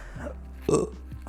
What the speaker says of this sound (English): I haven't burped in a long time